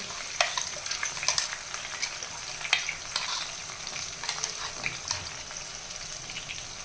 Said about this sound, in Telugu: ఇప్పుడు ఈ మసాలా పేస్ట్ని ఇలా కలుపుతూ చక్కగా వేగించాలి